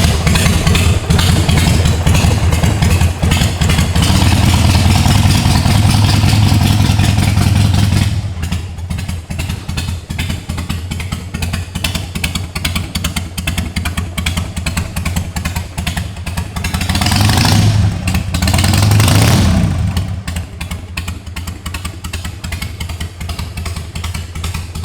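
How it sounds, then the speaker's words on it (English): A 2006 Harley-Davidson 883C motorcycle engine runs loud and close with a thumping, clattery beat, revved hard early, then dropped to a rough idle and blipped up again, with no talk. "Fire this thing up for you guys."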